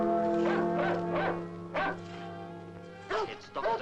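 A dog barks in a series of yapping bursts, several in quick succession, then a pause and a few more barks, with a voice talking around them.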